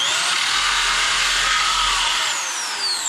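A Dremel-style rotary tool cuts an RC car body, a hard-shell Jeep Rubicon body for a Traxxas TRX-4. It makes a steady, loud, high-pitched whine with no break that eases off at the end.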